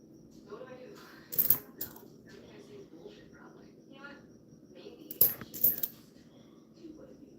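Coins clink and drop in two short bursts during coin roll hunting for silver, with a low hum and faint talk murmuring underneath between the jingles.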